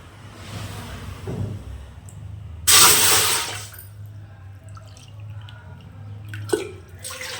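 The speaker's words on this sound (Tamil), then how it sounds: "இப்போ 4க்கு 3 பவுல் தண்ணி ஊற்றினா போதும்." Water poured from a bowl into rice flour while making murukku dough gives a brief, loud pouring splash near the middle, with quieter kitchen handling and a low steady hum around it.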